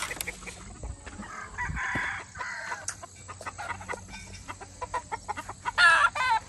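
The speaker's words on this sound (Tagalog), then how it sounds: "ito yung aking mga manok sa ngayon." Chickens on a farm cluck and squawk nearby in scattered bursts, with a rooster crowing, the calls coming irregularly over a low background.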